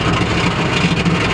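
Budget sleeper car engine with a freshly broken, popped exhaust, a loud, close, rough low rumble with a steady uneven throb as it runs.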